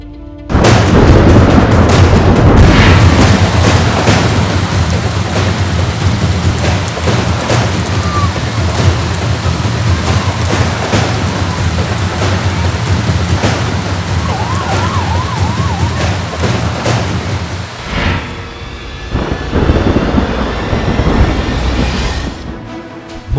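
Heavy monsoon rain pours steadily across Mumbai streets in a loud, dense wash with low rumbling booms, sustained for about eighteen seconds before briefly dropping off and returning.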